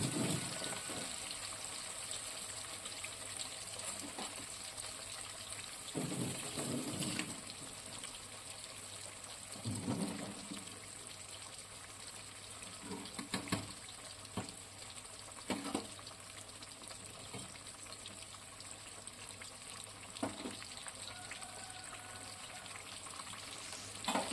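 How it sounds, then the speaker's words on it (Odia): Bhakura fish pieces frying in hot oil for an Odia fish curry, a continuous soft sizzle with occasional louder spatters and utensil clinks, fairly faint and steady with no talk. "ତେଲ ପୁରା ବଢ଼ିଆ ଗରମ କରିକି ଆମର ମାଛକୁ ଛାଡ଼ିବ।"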